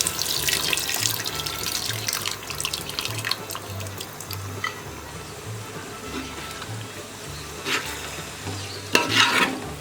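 Tamarind juice poured into a pan of simmering Nellore fish curry, a steady wet pouring and bubbling with stirring and soft clatter, ending in a brief louder splash.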